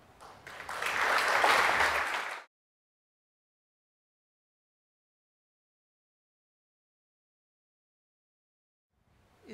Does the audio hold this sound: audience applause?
yes